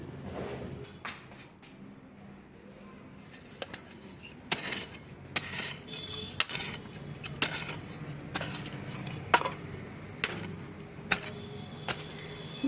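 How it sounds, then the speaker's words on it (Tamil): Hand hoe scraping and chopping at weeds in home garden soil for planting amaranth greens, irregular sharp strikes and scrapes recurring every second or so, close by. "இந்த கொத்தை வச்சு தான் க்ளீன் பண்ணிக்கிட்டு இருக்கேன் நான்"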